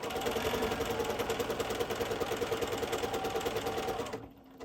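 Sewing machine with a free motion foot stitching a thread cord, a fast steady mechanical whir with rapid needle rhythm, close and loud, stopping near the end.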